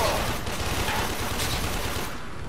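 Dense, continuous gunfire from the Warframe video game roars steadily throughout, loud and unbroken, with no clear pauses between shots.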